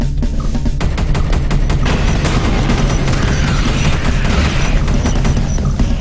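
Rapid gunfire from a sentry gun in the sci-fi shooter game Space Beast Terror Fright, loud, dense and sustained throughout, with heavy low booming bursts under a continuous rattling stream of shots.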